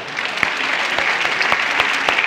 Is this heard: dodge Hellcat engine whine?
no